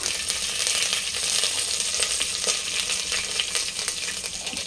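Curry leaves, green chili and sliced onion fry loudly in hot oil in a pan for a prawn rice dish, a dense continuous sizzle with crackles and scraping stirs throughout.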